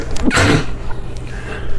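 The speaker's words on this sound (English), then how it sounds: "Hang on, I'm gonna sneeze." A single sharp sneeze close to the microphone, followed by quiet room sound.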